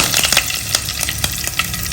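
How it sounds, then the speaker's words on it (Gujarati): Cumin seeds and asafoetida hit hot oil in a tempering for a Gujarati dry vegetable dish, crackling and spitting loudly and continuously up close, with rapid popping bursts. "તેલ ગરમ થઈ ગયું છે અને જીરું નાખું છું હિંગ હિંગ નાખી દીધી છે"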